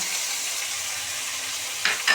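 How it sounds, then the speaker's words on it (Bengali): Spice paste for prawn dopiaza fries in a pan with a steady, close hiss and sizzle, then two quick spoon-against-pan clinks as it is stirred near the end. "পেস্টটা দিয়ে ভালোভাবে নাড়তে হবে।"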